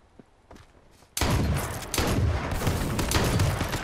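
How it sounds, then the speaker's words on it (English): A loud shotgun blast fired at an enemy in a first-person shooter game, a sudden heavy boom followed by a second burst and sustained rumbling gunfire, after a few quieter thuds. "Yeah, I'm going to shotgun him."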